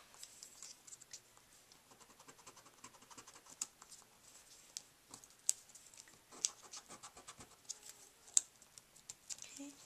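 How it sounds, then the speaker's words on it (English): An eraser rubs out pencil marks on a handmade Christmas window scene card, giving close, quick scratchy strokes in irregular bursts with a few sharper scrapes. "and then I can kind of erase."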